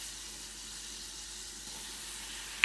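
Steady, quiet sizzle and hiss of flour frying in melted butter in a pan for béchamel sauce, continuous and close, with a small clink at the very end.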